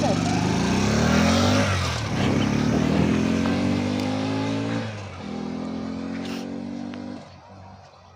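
A 2023 RMG Moto Gusto Spark 50cc scooter engine runs close by and is revved several times, its buzzing note rising and falling in repeated swells before settling to a lower idle near the end.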